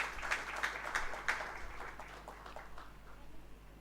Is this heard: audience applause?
yes